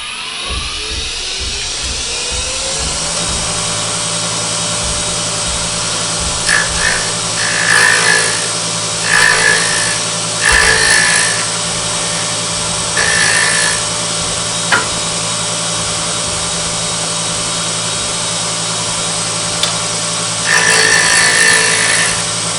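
Roughing gouge cutting half a cove in a workpiece spinning on a wood lathe, a steady close motor drone with repeated bursts of scraping, hissing cuts at intervals.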